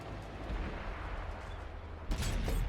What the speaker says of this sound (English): A nice big shot there to start off the game.